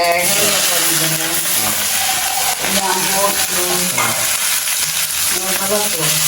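Mustard seeds sizzle loudly in hot oil as a mother cooks a vegetable curry in a home kitchen, a steady close-up frying hiss with crackles, while people talk over it.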